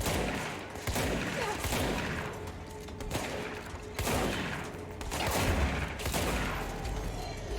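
Shotgun blasts in the action game Control, heavy booming reports spaced about a second apart amid dense, loud combat noise, with no clear talk.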